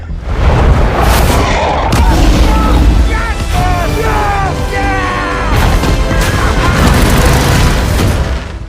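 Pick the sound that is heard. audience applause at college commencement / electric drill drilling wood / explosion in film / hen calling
explosion in film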